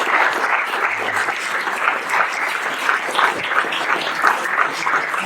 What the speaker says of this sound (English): let's ask for a big round of applause for our speakers today